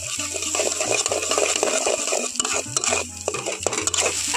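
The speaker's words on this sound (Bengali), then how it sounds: "ডিমটা কিন্তু এরকম তাড়াহুড়ো করে নাড়াচাড়া করে নিতে হবে।" Beaten egg and onions being stirred quickly in hot oil, with busy, continuous scraping and clinking of a spatula against the pan over a low sizzle, close up.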